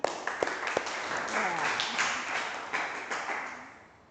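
Scattered claps and a few sharp taps from a school class, brief and uneven rather than a full ovation, with some voices murmuring through it.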